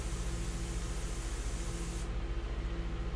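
Airbrush spraying ink for a portrait, a steady close hiss of air and paint that thins abruptly partway through, with a faint low hum underneath.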